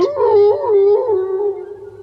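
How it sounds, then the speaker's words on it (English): A long wavering howl from a wolf on a storyteller sound-effect record rises and falls for about two seconds, loud and close, then fades at the end. "the wolf let out such a yell that he spat Tom right out"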